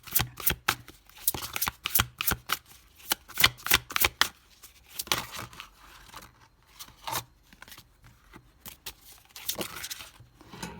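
Tarot cards being shuffled by hand, a rapid series of crisp riffling flicks and soft slaps in uneven bursts, close and fairly loud, with no talking.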